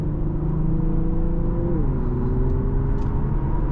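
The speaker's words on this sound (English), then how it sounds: "nice and smooth acceleration" Steady engine drone of a 2020 Infiniti Q60 3.0t Luxe accelerating on the road, with a smooth rising tone that shifts around midway, continuous and close inside the cabin.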